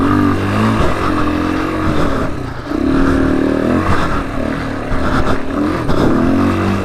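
Dirt bikes racing in a motocross scramble, including an XR200, with engines revving and rising and falling in pitch as the bikes accelerate past, loud and continuous with revs surging in waves.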